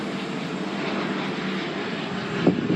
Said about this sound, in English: what sounds like a private jet is a private jet